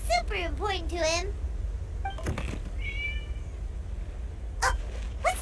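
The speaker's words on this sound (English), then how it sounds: "It was just a cat." A cat meows several times in Genshin Impact, the rising, wavering calls loud and close at the start, then a brief chime-like tone and a few short fainter cries near the end.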